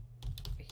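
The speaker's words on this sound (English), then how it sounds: "Hang on, typing and talking." A few quick keystrokes tap on a computer keyboard, faint and close, in a short burst with no voices.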